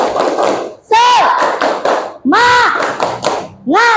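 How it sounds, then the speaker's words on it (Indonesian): A group claps in a quick rhythmic pattern during a classroom cheer while children chant along, the claps crisp and close between bursts of voices. "kita tepuk semangat dulu"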